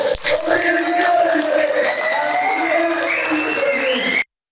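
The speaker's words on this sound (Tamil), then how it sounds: "சிவாவின் அறிவிப்பை கேட்டதும் தமிழக வெற்றிக் கழக தொண்டர்கள் கைதட்டி ஆரவாரம் செய்தனர்" Tamilaga Vettri Kazhagam party volunteers cheer and clap as an announcement is made at a rally, a dense crowd roar with shouts rising over steady applause, loud and close throughout before cutting off abruptly.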